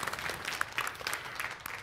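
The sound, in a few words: applause in church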